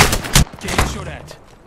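Gunfire in the battle royale game Apex Legends: a few sharp, loud close-range shots in quick succession, then a fading tail.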